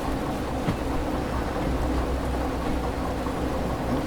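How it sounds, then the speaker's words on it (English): Heavy rain pours down with rumbling thunder in the train-driving video game Derail Valley, a dense, steady roar of downpour that stays loud and unbroken throughout. "Geez, the rain is really coming down, isn't it?"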